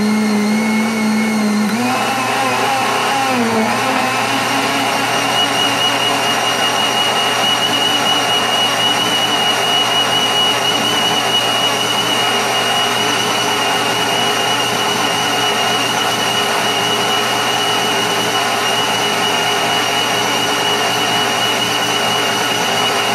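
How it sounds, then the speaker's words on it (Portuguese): A blender whirs steadily at full speed, blending a green detox juice with ginger, loud and continuous from start to finish after a brief spin-up, with no talking. "Então agora eu vou bater."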